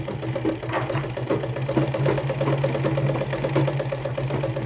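A sewing machine runs steadily, stitching along the edges of two layers of cloth with a continuous whirring hum and mechanical rattle, close up and with no talk.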